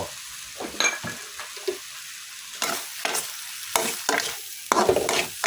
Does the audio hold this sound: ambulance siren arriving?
no